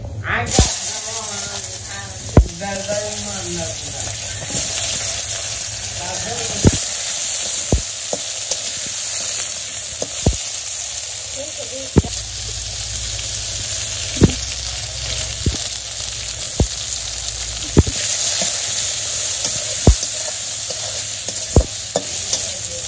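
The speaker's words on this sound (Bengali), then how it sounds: "তো আমি যে বেগুনটা একটু কষে নিচ্ছি" Eggplant sautés in a pan for a village-style curry, producing a steady loud sizzle with sharp metallic clacks of a spatula striking the pan at irregular intervals. A voice talks faintly underneath near the start.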